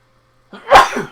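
One close, loud sneeze bursts out after a brief quiet, followed by a short breathy tail; no talking.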